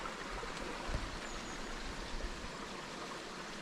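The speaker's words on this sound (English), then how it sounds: "And again, water and the sounds of water." A stream runs steadily on the island of Jersey in the Channel Islands, a close, continuous broadband rush of water that stays even throughout, with no voices.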